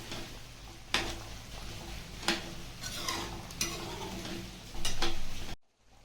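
A spoon stirs thick chicken masala gravy in a pan, with a steady soft sizzle broken by several sharp scraping knocks against the metal before cutting to silence near the end.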